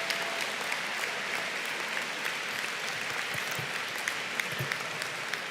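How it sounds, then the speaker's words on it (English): A large crowd at the Duquesne University Kline School of Law 2024 commencement applauds graduates' families, a continuous distant roar of clapping with occasional sharper individual claps standing out. "Wow, you got a lot of applause there."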